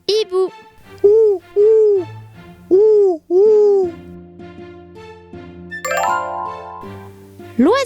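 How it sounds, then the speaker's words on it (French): An owl's hoots sound in a series of clear, loud calls repeated in a steady rhythm, followed by soft chiming tones in a children's animal-sounds recording. "Le hibou."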